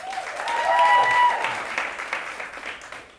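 An audience at a queer comedy night claps in a lively burst that swells and then fades, with a few cheers or voices mixed into the applause.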